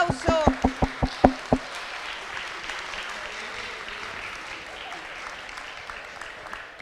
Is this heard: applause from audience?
yes